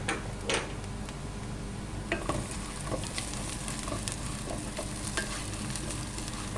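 Onions and curry leaves fry in a pan for spinach sambar, a steady close sizzle broken by sharp spoon taps and stirring clicks against the pan.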